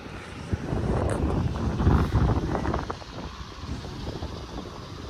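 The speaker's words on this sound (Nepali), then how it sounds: "आहा हावा चल्यो यार" Wind blows outdoors on a hot day on the road to Sirankot in Palpa, a loud rushing gust buffeting the microphone that swells midway and then eases.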